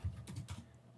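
Keystrokes on a computer keyboard while Python code is typed, a short quick burst of several soft, close clicks and taps with no talking.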